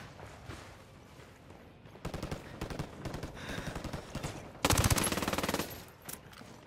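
Rapid machine gun fire rattles in a Ghost Recon Wildlands firefight, dense bursts of shots rising to a loud close volley, then a few scattered trailing shots.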